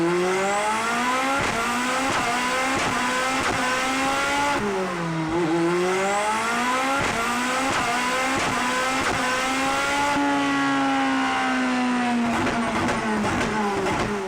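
A Can-Am X3 side-by-side fitted with a Hayabusa engine and paddle shifters revs hard, climbing through gears with loud, sustained engine howl and quick dips at each shift, with no talking.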